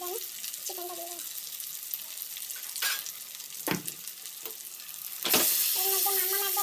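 Chicken frying in hot oil with ground cumin and pepper, a steady sizzle broken by a few sharp stirring scrapes. A voice murmurs at the start and end.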